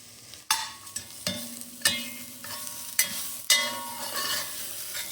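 Garlic and partly frozen tomato paste cook in a pan, giving a soft sizzle broken by repeated stirring scrapes and taps at roughly half-second intervals, fairly quiet and close, with no talking.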